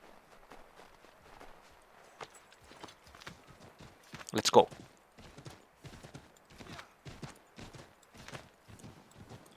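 Hoofbeats from a horse ridden in Assassin's Creed 3, a quick, regular clopping rhythm that continues throughout, with one louder burst midway and someone talking over it.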